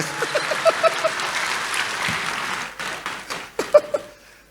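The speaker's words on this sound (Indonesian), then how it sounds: "kasih tepuk tangan dong" A crowd claps steadily for several seconds, the applause dense and fairly loud, with a few sharper claps and light chuckles before it trails off.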